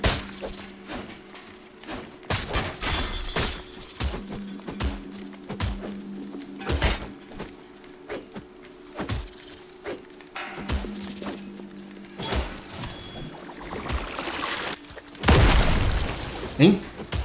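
Explosions in the Lego Fortnite desert, heard as sharp crashing and shattering bursts scattered through busy game audio, ending with a louder, broader blast near the close.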